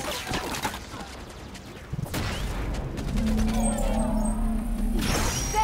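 Weapon fire rattles in Halo 5: Guardians, with bursts of shots and crashing impacts followed by a sustained mechanical whine and hum, loud and close, mixed with game effects.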